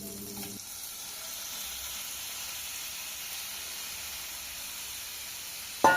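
Spiced prawns roast in butter over a low flame, giving a soft, steady sizzle and hiss that runs evenly throughout with no talking.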